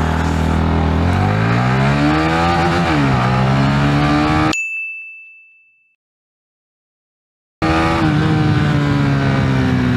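Honda Winner X motorcycle accelerating from 0 to 60 toward its rev limiter, a loud engine note rising and wavering before cutting out abruptly into a gap with a brief ding, then the roar returning.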